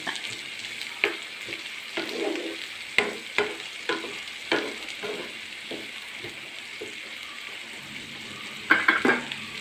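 Onion, ginger, garlic and curry leaves sizzle in hot oil for chicken chukka, with a steady fry under repeated sharp scrapes and taps of a spoon stirring in the pan, close and fairly loud, no talking.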